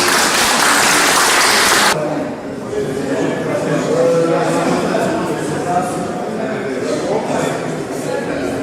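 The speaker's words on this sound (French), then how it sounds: "Je pense qu'on peut vous applaudir." Applause at an art exhibition opening in L'Escarène, a brief loud burst of clapping that cuts off, leaving a murmuring crowd and nearby voices talking.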